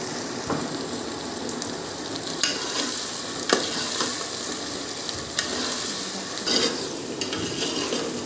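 Moong and masoor lentils sizzle and fry steadily in a pan while a spoon stirs them, scraping the metal with occasional louder clacks.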